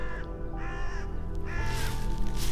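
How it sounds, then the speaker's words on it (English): Crows caw loudly and repeatedly outdoors while a hawk hunts one of them, harsh calls arriving in three bursts with no talking. "There's a hawk hunting a crow."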